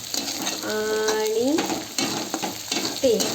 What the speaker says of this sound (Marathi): कढईमध्ये आपण असं हिरवी मिरची आलं लसूण पेस्ट जिरी मोहरी